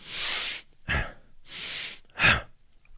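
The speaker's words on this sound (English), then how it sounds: "active inhale through the nose, passive exhale through the mouth, like so." Two cycles of a breathing pattern, each a sharp active inhale through the nose followed by a softer passive exhale out through the mouth, close and clear with no talking.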